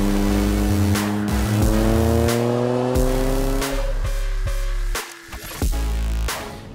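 Hydrogen-combustion Toyota GR Yaris race car engine revving hard and loud, rising and falling through gear changes with a brief dip near the end before it picks up again.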